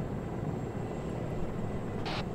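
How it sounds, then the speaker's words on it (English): A helicopter flies overhead during an ArmA 3 military simulation near Fallujah, a steady low rotor and engine rumble that holds at an even level throughout. "Wave to the helicopter."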